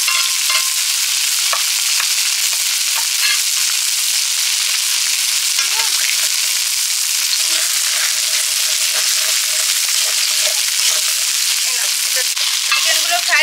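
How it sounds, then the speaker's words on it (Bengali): Eggs fry in a hot wok for egg chicken chowmein, giving a loud, continuous sizzle with intermittent scraping stirs of the utensil, heard up close with no talking. "এদিকে কড়াইতে ডিমগুলো ভাজা হচ্ছে"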